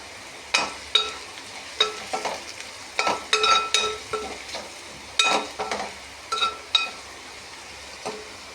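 Okra fry sizzles in a pan while a metal spatula strikes and scrapes it in repeated bursts, clinking against the pan close up over a quieter background sizzle, with no talking.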